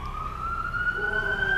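An emergency vehicle siren holds a steady, rising wail at moderate distance, layered over continuous low outdoor rumble, with faint background murmur.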